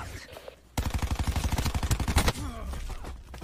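Automatic gunfire in the shooter Black Ops 4: a sharp burst of rapid, evenly spaced shots rattling loud and close for over a second, after a quieter stretch of game ambience.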